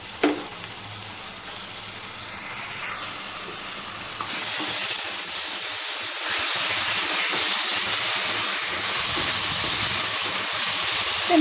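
Ginger-garlic paste added to a hot pan while making ghee rice: a quieter sizzle at first swells into a loud, continuous hissing fry, with an occasional scrape, and no one speaks.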